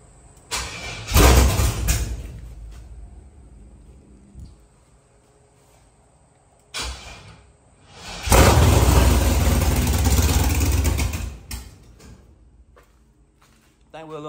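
A car engine fitted with a cheap $30 Amazon muffler cranks and catches in loud bursts, dropping to a quiet idle between starts, with a person talking in the gaps.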